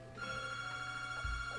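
A telephone rings inside a Donkey Kong 64 play session, one steady electronic ring tone holding at a moderate level, with a brief low thump near the end.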